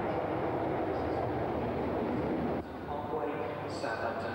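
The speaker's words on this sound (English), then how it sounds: "The train approaching platform 8 is this." A train approaches a station platform with a steady loud rumble and broadband roar that dips slightly partway, and a faint high tone appears near the end.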